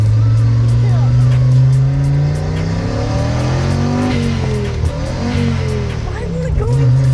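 A car engine running just after ignition with an uneven, poorly set idle, its steady low drone shifting into rising and falling revs, loud and close, with people talking over it.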